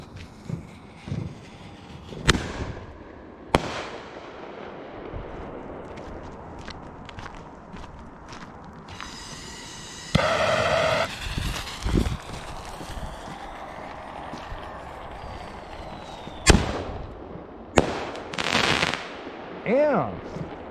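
Fourth of July ball shell fireworks burst in a series of booms and crackling breaks, some near and sharp and others farther off, while people talk and react in between the explosions.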